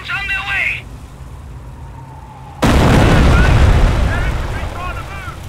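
Artillery pounds an enemy squad in a video game: a loud, sustained explosive boom erupts after a short lull and rumbles on, preceded by a brief burst of voice chatter.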